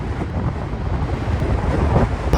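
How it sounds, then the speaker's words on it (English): Strong gusty wind roars across a microphone at a cliff edge on the California coast beside an abandoned building, loud, steady and buffeting with no voices. "The wind is really bad."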